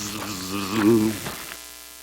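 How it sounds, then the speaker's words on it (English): A steady electrical buzz comes from a power station beside a campground picnic table near Beacon Rock in the Columbia River Gorge, Washington. The low, even hum runs throughout, with a brief voice-like murmur rising over it midway. "right by the power station thing. You just hear it buzzing."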